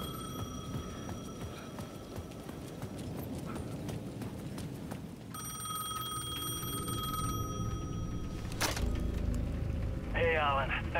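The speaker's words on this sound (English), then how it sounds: "The payphone at the edge of the plaza was ringing again." A payphone rings at the edge of a plaza in the Alan Wake 2 video game, its repeated electronic bell tones sounding through a tense ambient scene while a voice talks over it.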